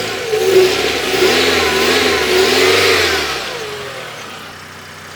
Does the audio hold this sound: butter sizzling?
no